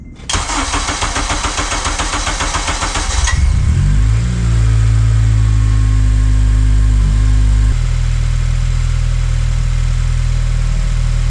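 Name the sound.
Acura TSX engine idling with RRC manifold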